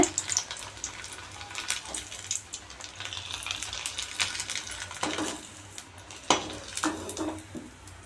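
Leftover rice pakoda batter sizzles and crackles steadily as small drops hit hot oil in a pan, with a few sharp metallic clinks of a utensil against the vessel.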